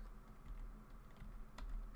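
Typing on a computer keyboard during a web search, a soft run of light key clicks at close range with one sharper tap near the end, no voices.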